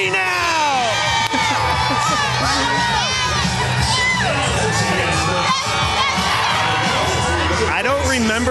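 Loud, excited crowd cheers and shouts along the Texas Cavaliers River Parade in San Antonio, with children's high whoops and screams rising and falling close by, dense and continuous throughout.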